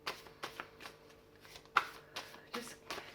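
Tarot cards are shuffled by hand, soft repeated riffles and taps in a quiet room, close and gentle, with one sharper slap partway through.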